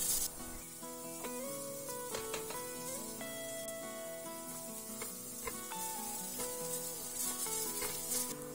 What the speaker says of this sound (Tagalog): ilagay na natin dito yung ating sibuyas at ng bawang. Igisa lang natin yan for at least 10 seconds.